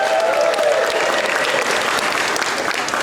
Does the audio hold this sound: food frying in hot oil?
no